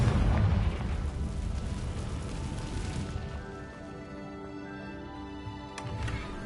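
A Confringo blasting spell explodes in a Harry Potter video game: a loud, dense burst of booming blast noise at the start that rumbles and decays into a sustained, ringing tail, with a faint later pop.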